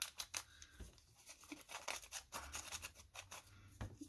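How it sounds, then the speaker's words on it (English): Paper ripped off by hand while making envelopes, giving a series of short, close, crisp tearing bursts in quick succession with brief pauses between. "So I'm going to rip that off, ink it up."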